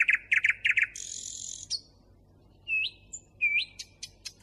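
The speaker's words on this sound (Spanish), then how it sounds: "Son ruiseñores." Nightingales sing in the night, clear close phrases of rapid repeated chirps, a buzzy trill and rising whistled notes, set apart by short pauses against a quiet background with no talk.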